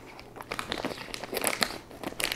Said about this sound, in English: when I start opening up the rustling of the packages, he starts to get nervous